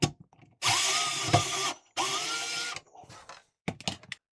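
A power screwdriver whirs through several short bursts, removing the screws from the underside of an Aiwa AD-WX929 vintage cassette tape deck, followed by small clicks and rattles of handling.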